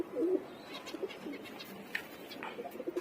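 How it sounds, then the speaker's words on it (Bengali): Pigeons coo softly and intermittently while bathing in water poured over them on a hot day, with low murmuring calls scattered over faint background noise. "উপরে কবুতরকে পানি দিচ্ছি গোসল করার জন্য, ওরাও গোসল করতেছে সম্ভবত"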